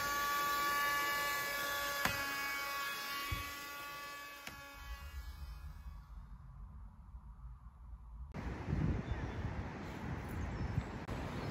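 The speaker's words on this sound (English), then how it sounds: "It's one of these window vacuum things" A small electric window vacuum sucks up winter condensation from glass, giving a thin, steady buzzing whine that cuts out about halfway through, followed by rougher scraping noise.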